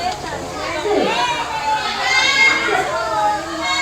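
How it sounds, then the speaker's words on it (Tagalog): Children play and shout at a private pool during a birthday celebration, a loud, continuous tangle of high excited voices and squeals, with overlapping shrieks rising and falling close by. "ingay ng mga bata."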